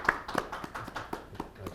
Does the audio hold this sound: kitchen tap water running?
no